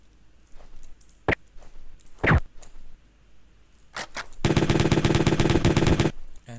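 Rapid automatic weapon fire from the S2ENGINE HD game pack simulation: a few sharp single shots, then a loud sustained burst lasting nearly two seconds, with no talking.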